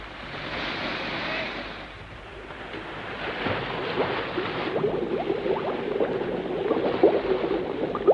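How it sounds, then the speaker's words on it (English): Gas bubbles up out of the sea, a fizzing, boiling wash that rises after a quieter stretch into dense crackling pops over a steady surf-like hiss. "The gas is still bubbling out of the sea."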